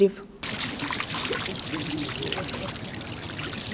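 Water gushes and splashes steadily as it is pumped out at a burst 200 mm water main on a street, a loud continuous pouring rush after a brief quiet start.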